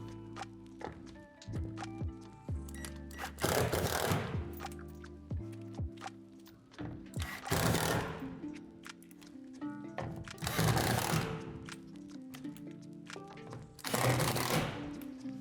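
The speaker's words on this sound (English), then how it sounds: "Secure the roof panel to the wall panel through these 4 holes with the longer screws." Screws are driven through a Lifetime 7' x 12' outdoor storage shed's roof panel into the wall panel, with four bursts of a power driver whirring, each set apart by clunks and handling noises, close and moderately loud.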